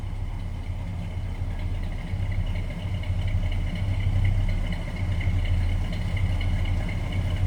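A 1961 Ford Galaxie Sunliner convertible's 390 V8 idles with a steady, low, loud rumble that holds even for several seconds, close by and with no talk over it.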